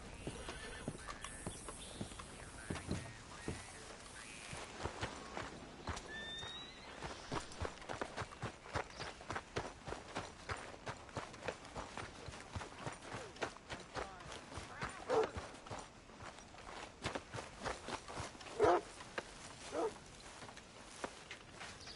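Horse hooves clip-clop steadily in Red Dead Redemption 2, a dense run of sharp close hoofbeats across the whole stretch with an occasional whinny, while game characters talk over it.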